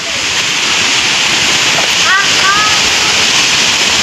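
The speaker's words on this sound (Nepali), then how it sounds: "झर्ना यहाँ माथि डाँडा टुप्पाबाट आउँछ पानी, यहाँ तलसँग जान्छ।" A waterfall pouring down from a hilltop makes a loud, constant broadband rush close by, with a few faint bird chirps briefly audible above the roar.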